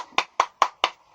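Four single hand claps spaced evenly apart, sharp and close, with silence between them, used as a sparse applause effect.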